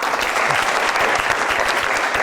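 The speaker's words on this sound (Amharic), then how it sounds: "አጨብጭቡላችሁ።" A studio audience claps for contestants on an Amharic-language Saturday afternoon game show where fathers compete, a full, sustained burst of applause with a few sharper rhythmic claps showing through.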